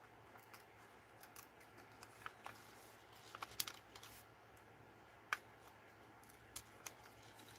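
Scissors snip through paper to cut out a craft pattern, a string of quiet, sharp clicks and snips close by in a calm room, with no talking.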